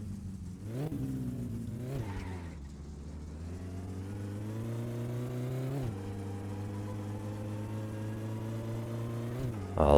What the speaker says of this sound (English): I'll listen to that gearbox whine